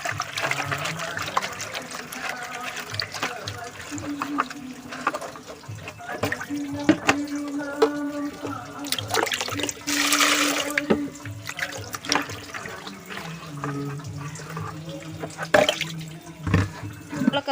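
Spinach leaves rinsed under a running tap, a steady trickle and splash of water continuing throughout with occasional louder gushes.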